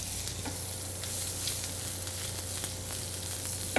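Chopped red onion sizzles in pure olive oil in a pan, a soft continuous frying hiss with occasional light stirring ticks, fairly quiet and without talk.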